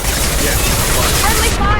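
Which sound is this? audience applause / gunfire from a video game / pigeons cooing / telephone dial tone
gunfire from a video game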